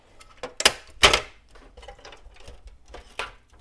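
Torx screws backed out of a Jeep Grand Cherokee WK2 headlight housing, a few short sharp plastic clicks and rattles from a driver at close range, then quieter fiddling.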